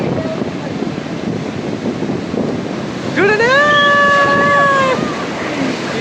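Sea waves wash steadily at RK Beach in Vizag, a continuous broad surf roar with a brief tonal horn-like note partway through.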